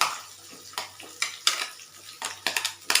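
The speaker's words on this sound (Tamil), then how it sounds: "வணங்கினதுக்கப்புறம் சின்ன வெங்காயம் போட்டுக்கிறேன்." Small onions tossed into a frying pan with chopped garlic and stirred, giving a string of scraping spatula strokes and light clatter over a soft sizzle, close by with no talking.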